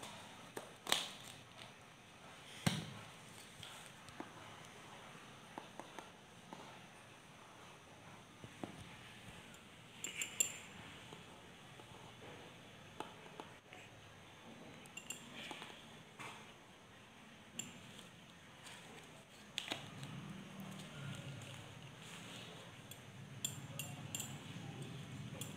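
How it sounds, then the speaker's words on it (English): Stainless steel spatula mixing zinc oxide eugenol on a glass slab: faint, scattered clinks and taps of metal on glass, with occasional scraping strokes, quiet and close, no speech. "is mixed on the glass slab with the help of the stainless steel spatula"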